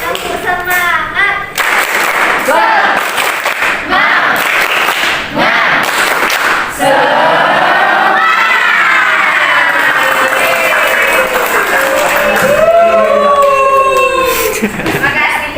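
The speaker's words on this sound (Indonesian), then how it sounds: "kita berdiri dan melakukan tepuk semangat" Primary school pupils in a maths class do the "tepuk semangat" clapping chant, sharp bursts of rhythmic group claps alongside loud children's chanting voices, close and energetic throughout.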